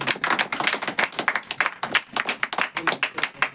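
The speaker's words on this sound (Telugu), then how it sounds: "గట్టిగా చప్పట్లు పడదాం." Congregation at a Christmas church service clapping hard together, a fast, rhythmic burst of many hands close by, with no talk over it.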